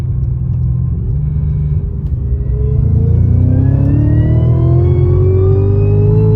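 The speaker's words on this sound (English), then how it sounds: "You can really hear the whine on this car." A 2016–2019 Cadillac CTS-V with a deep, amplified exhaust revs up loudly, its supercharger whine climbing steadily in pitch over a constant low rumble; no distinct backfire pops stand out.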